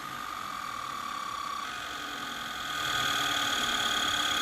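A Miniscribe hard drive spins at full speed, giving a steady whirring hum with high whine tones that rises slightly in level partway through and continues evenly to the end.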